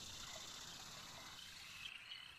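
Cicadas chirping at night in a dramatized outdoor scene, a steady, dense high-pitched buzzing drone that holds continuously throughout at moderate loudness with no voices.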